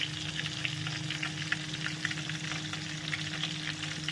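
Pieces of katla fish fry in hot oil in a wok, browning to a reddish colour. A constant close sizzle runs throughout over a faint low hum, and no one speaks.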